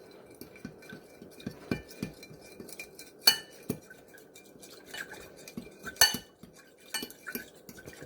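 A utensil stirs steak marinade in a bowl with repeated soft clinks and scrapes against the side, quiet and close, with no one talking.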